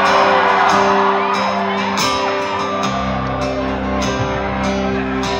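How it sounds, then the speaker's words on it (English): Concert crowd at a live show screams and whoops in a sustained, loud wash, with scattered shouts rising above steady band tones. "The youngest girl in the crowd screams like she remembers 2006."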